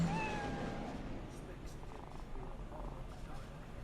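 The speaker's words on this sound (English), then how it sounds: "Oh my god, best game ever. I can pet a kitty." Cat being petted in the Cyberpunk 2077 video game, a short meow at the start followed by low, soft purring under game ambience and quiet speech.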